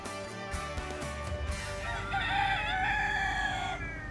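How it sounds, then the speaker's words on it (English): Free-roaming chickens in a suburban town center cluck, and a rooster crows loudly and close by, with a low hum of background noise. "you have a couple dozen chickens wandering around here in the middle of town"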